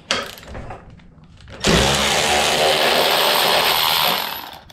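A power tool, likely an impact wrench, spins a 19 mm carriage bolt off the roller of a Kubota BX mower deck. Quieter handling noise comes first, then a loud, steady, high whine runs for about three seconds before cutting off.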